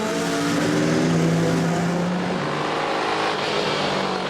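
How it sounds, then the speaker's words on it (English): Touring race cars in a Supercar Challenge race at Zolder circuit, a Volvo among them, roar steadily nearby with harmonic engine tones and a pass-by sweep, loud and continuous without talk. "the Volvo looking for the inside line down into the second corner"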